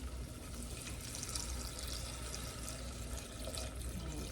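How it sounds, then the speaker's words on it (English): Chicken broth pours steadily into a pot for chicken pot pie, a faint continuous splashing trickle with no talking. "Now we're going to go ahead and add in our broth."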